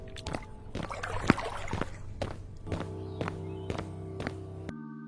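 A miser walking home after crossing a river: a series of distinct footfalls, about one per half second, sound close and clear over a low steady hum, then break off abruptly into a quiet tone.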